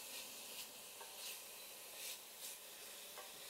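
Bacon fries in a pan with a soft, steady sizzle, broken by gentle scraping strokes every second or so as it gets moved around.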